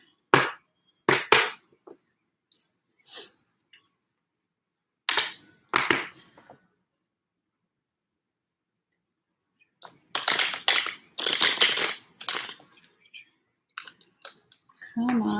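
Tarot cards shuffled by hand in several separate rounds of crisp, snapping riffles and flicks, with quiet gaps between them and a longer, denser burst near the end.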